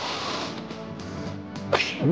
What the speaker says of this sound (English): having someone sneezing next to him